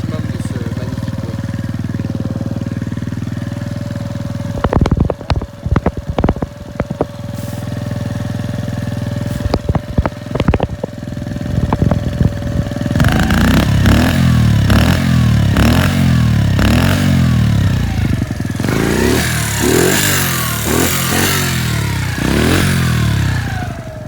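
A motorcycle idles close by with sharp throttle blips, then revs up and down repeatedly, the exhaust growing loud and raspy.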